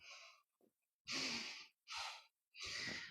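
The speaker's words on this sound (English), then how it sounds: "Inhale and exhale." Several slow, deep breaths in a breathing exercise, close and alone: a long airy inhale-exhale cycle repeated in steady rhythm with short silent gaps between.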